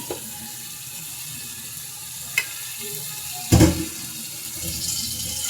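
A little water splashes into a pan of koi fish curry with potatoes and tomatoes, one short loud pour over a quiet kitchen background.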